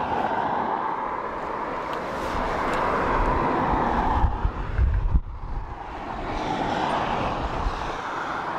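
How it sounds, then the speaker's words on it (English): A Ryanair airliner from Nottingham roars steadily at an airport on a windy day, its engine noise broad and continuous, swelling slightly toward the middle before settling back. "next Ryanair from Nottingham"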